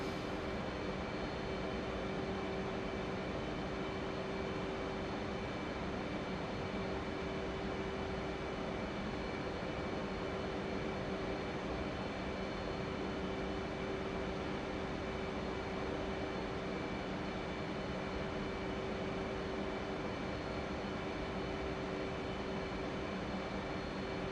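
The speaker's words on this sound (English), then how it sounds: "we're going to fly past the carrier, just off to the right of the carrier at 800 feet at 350 knots" F/A-18 Hornet jet flying past an aircraft carrier at 800 feet and 350 knots in DCS World, a steady, loud engine drone with a sustained whine, unchanging throughout.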